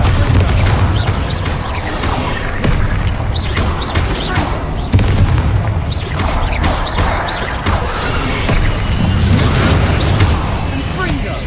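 Thunderous Bombarda blasts and crashing spell impacts from Hogwarts Legacy fill the scene in a loud, continuous barrage of booms and smashes, with a voice shouting over the fighting.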